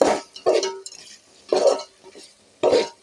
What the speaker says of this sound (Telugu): అడుగంటకుండా కలుపుకుంటుంటే అడుగంటిన వాసన రాకుండా బాగుంటుంది